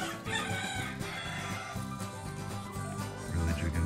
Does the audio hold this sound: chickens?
yes